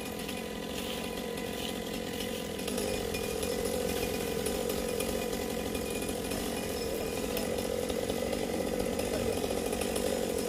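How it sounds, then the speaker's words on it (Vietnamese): A chainsaw drones steadily at a distance, its buzzing rough and constant as it cuts tree branches near power lines, with no voices over it. "rồi anh đã cưa xong cái nhánh đọt rồi"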